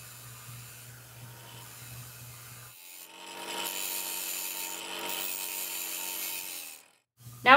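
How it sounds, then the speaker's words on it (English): A grinder works the end of a bolt into a sharp point, giving a steady, close abrasive whir with a rough grinding rasp that holds for several seconds after a quieter hum. "Now we're going to use our grinder to make a point at the end of our bolt."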